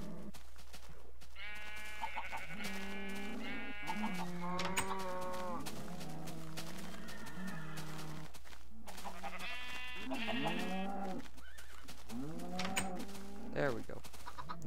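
Sheep bleat over and over in Minecraft, the blocky game's wavering calls coming in close, overlapping bursts, with a player talking throughout and farm-animal sounds dominating.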